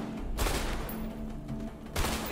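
Gunshots in the co-op video game A Way Out: two sharp bursts of gunfire ring out about a second and a half apart over quiet game ambience, the first louder and longer.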